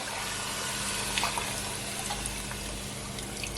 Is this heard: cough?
no